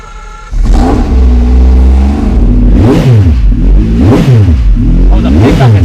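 A quad-turbocharged car engine revs loud and close, rising and falling repeatedly in sharp sweeping bursts with an immediate, motorbike-like response.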